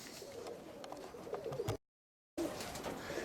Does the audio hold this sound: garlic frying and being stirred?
no